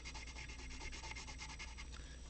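Colored pencil burnishing a colouring page, a faint, continuous rhythmic rubbing of quick strokes close up, with no voices.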